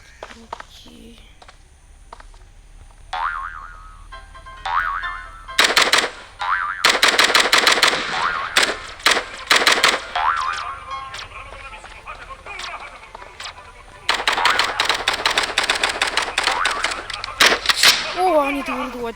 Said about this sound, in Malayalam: ബാക്കി മൊത്തം അവന്മാരെ വെടിവെച്ചത്.